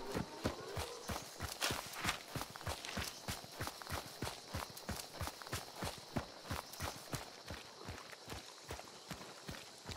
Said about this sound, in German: ich höre hier noch Schritte